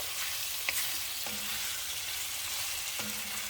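Beef browns in a Dutch oven with a steady, even sizzle, punctuated by a few soft clicks and scrapes of stirring; close and moderately quiet, no voices.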